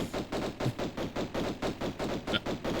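Lara fires pistols in Tomb Raider Remastered, a fast, regular string of about a dozen sharp shots in steady rhythm, close and punchy, with no talking.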